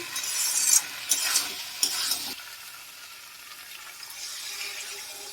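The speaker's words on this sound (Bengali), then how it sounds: "অল্প একটু নেড়েই জল দিয়ে দেবো।" Spice masala stirred in a hot pan for jackfruit and prawn curry gives a few close scraping strokes over a soft sizzle, then settles into a quieter steady hiss.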